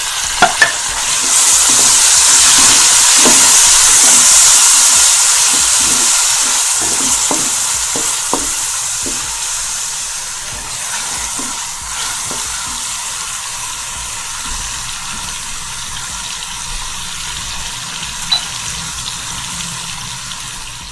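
Tomatoes and green chillies hit hot oil with browned onions for chicken pulao, a loud steady sizzle that slowly fades, broken by scraping and stirring clatter through the first half.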